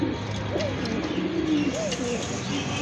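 Several pigeons at a bird seller's stall coo in low, wavering calls that overlap in a steady chorus over a constant background hum.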